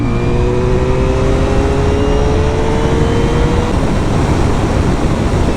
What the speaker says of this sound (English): the engine kind of dogs it down as you pull away, and then it picks up rapidly